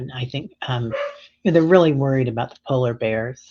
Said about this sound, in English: that's my dog telling us